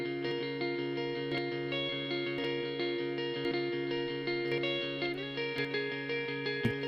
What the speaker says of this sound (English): sort of dancing delay, and it is a stereo delay, which is super fun